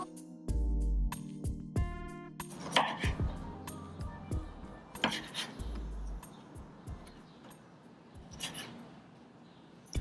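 A knife chops through a tomato on a cutting board, several crisp cuts in an irregular rhythm, close and fairly clear.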